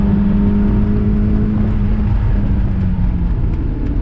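A car lapping Gingerman Raceway, heard from inside as a loud, steady engine drone with a sustained low hum and tyre roar and no break.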